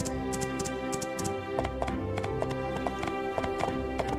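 Horse hooves clip-clopping in My Time At Portia during a land race, a brisk, regular run of sharp clops over continuous game music, fairly near.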